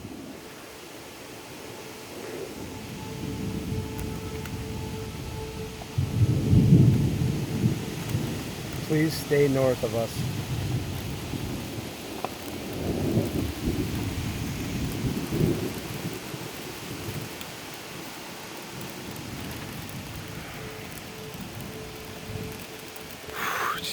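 Thunderstorm with heavy rain during a tornado on the north side of Utica, a steady roar of rain with low rumbling thunder building in the middle, while people talk and exclaim over it.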